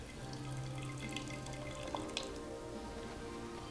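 Hot water pours steadily into a traditional teapot for Persian tea, a continuous close splashing stream with a few small drips, and no talking over it.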